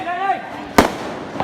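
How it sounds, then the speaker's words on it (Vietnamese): Tet fireworks set off at family homes in a rural hometown: one sharp, loud burst midway and a fainter pop shortly after, following a voice heard at the start. "Trình diễn pháo hoa tại những gia đình."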